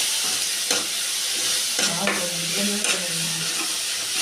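Onion, tomato, coriander and curry leaves sautéing in a pan for potato kurma, a constant bright sizzle close by with a few spatula scrapes and knocks against the pan.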